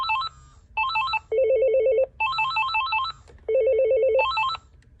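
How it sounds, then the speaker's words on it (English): An AT&T E5960C cordless phone handset rings during a global page, with loud electronic ring bursts repeating in a steady on-off pattern and a low vibration buzz underneath. "the vibrating sound that you hear is actually a vibrator in this phone"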